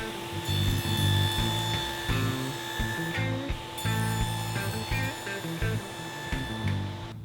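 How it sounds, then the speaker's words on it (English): Table saw fitted with a stacked dado set cutting spline slots across cherry miter joints held in a 45-degree spline jig, giving a steady whining hum with rough rasping bursts as the wood feeds through, close and fairly loud. "I'm going to do that using a spline jig at the table saw with a stacked dado set"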